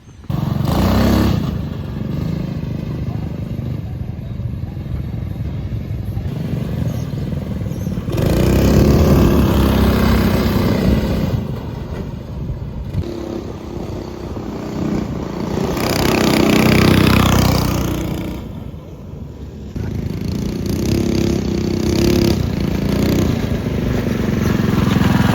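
A small homemade mini vehicle's engine runs loud and close with a buzzy, motorcycle-like tone, swelling in several long revs between rougher idling stretches.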